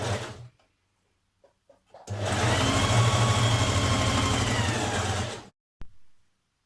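A sewing machine stitches a 1.5 cm sleeve seam on a jersey top, running in one steady, close, rapid hum for about three seconds, with quiet handling sounds before and a brief clunk after.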